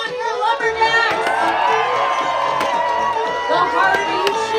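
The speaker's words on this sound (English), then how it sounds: "You gotta cheer on your lumberjacks!" Outdoor crowd at a lumberjack chopping contest on Grouse Mountain in Vancouver cheering and shouting loudly, with children's voices and sharp axe chops cutting through the noise.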